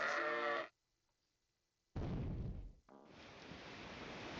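A sheep at a sheep farm in the video game Patrician 3 gives a single short bleat, followed by near silence and then a steady rushing wash of ambient game sound like surf.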